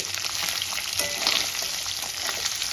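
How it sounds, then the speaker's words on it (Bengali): Katla fish heads frying hard in hot oil, a steady close sizzle and crackle running unbroken through the whole stretch with no voices. "এই পিসটা কড়া করে ভেজে নেব মাথাগুলো আমি লাল লাল করে"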